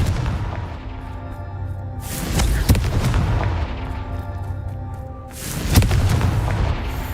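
Two heavy Confringo spell explosions in Hogwarts Legacy boom a few seconds apart, each a loud burst with a rumbling tail over a low ambient game drone.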